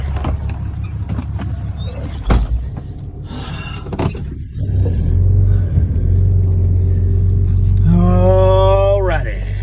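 A pickup truck on a snowy road is heard from the cab as thumps and rustling give way to a steady low engine rumble, with a rising whine near the end and speech-like sounds throughout.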